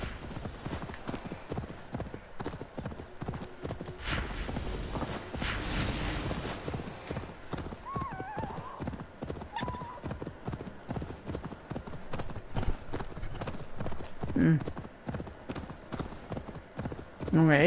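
Rhythmic clip-clop of horse hooves at a steady trot throughout, ridden in the video game Assassin's Creed Valhalla, with a voice speaking briefly in German over it.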